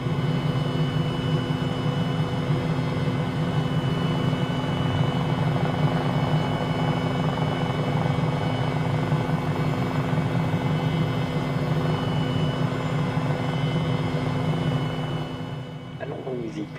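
A Cowansim MD500E helicopter in Microsoft Flight Simulator picks up speed on an airport runway. Its steady, loud rotor and turbine drone holds constant throughout and eases off slightly near the end.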